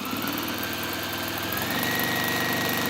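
Electric sewing machine running steadily, close and loud, while stitching down the side of a folded fat quarter fabric bag, a continuous motor whir with a fast rhythmic needle chatter throughout.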